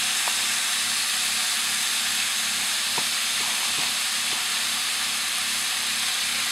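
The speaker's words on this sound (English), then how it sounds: "while I'm cooking the beef" Ground beef browns in a frying pan with a steady, dense sizzle and hiss, faint pops and ticks scattered through it, close and unbroken with no voices.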